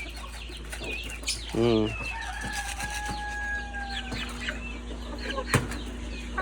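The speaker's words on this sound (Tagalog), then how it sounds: "Oh, mga sisiw." Backyard chickens and young chicks cluck and peep close by, with a brief burst of flapping wings and a short hum from a person.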